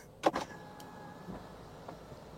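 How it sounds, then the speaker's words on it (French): Electric sunroof on a 2022 Kia Carnival minivan opening inside the cabin, a brief mechanical knock then a faint steady motor whine that fades over about two seconds. "Toit ouvrant, bien entendu."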